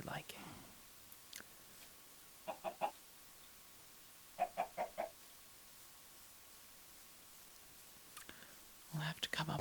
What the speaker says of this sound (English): We'll have to come up with a name for our chicken friends as well.